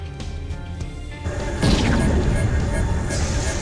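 A beam cannon on an Astera Moloch artillery warship is destroyed in the FreeSpace 2 space combat game, a loud booming crash that swells at about one and a half seconds into a sustained roar over a continuous engine rumble.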